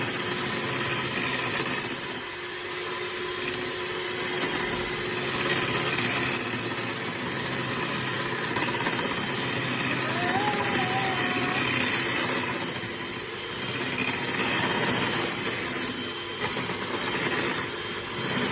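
An electric hand mixer whips meringue for a lemon meringue pie with a steady, unbroken motor whir that runs at an even level from start to finish, while voices come and go faintly in the background.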